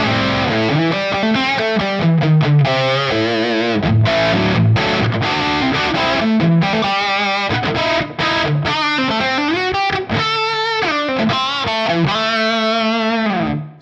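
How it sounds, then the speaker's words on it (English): Guitar through the Line 6 Helix Vitriol Crunch amp model at default settings: loud, distorted crunchy riffs with chugging palm-muted chords and ringing sustained notes, dense and continuous, fading out at the end. "At the default settings, the Vitriol Crunch sounds a little like this."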